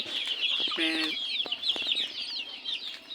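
A chicken clucks a few times close by over a busy background of other bird calls and farmyard chatter.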